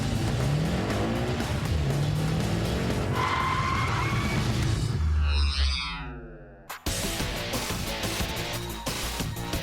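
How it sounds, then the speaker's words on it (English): High-octane monster cars of over 1,100 horsepower, engines roaring loudly up close, then tires squealing as a car passes by and fades before the roar picks up again after a sharp cut. "high-octane monster cars"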